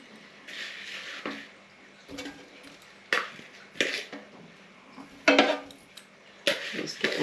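Food being loaded into an air fryer basket in a home kitchen: a series of separate clinks and clatters of metal and glass, spaced a second or so apart, close and fairly loud, with quiet gaps between.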